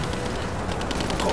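Gunfire in Rise of the Tomb Raider, a rapid, dense burst of shots in close succession, loud and continuous through a short stretch of game combat.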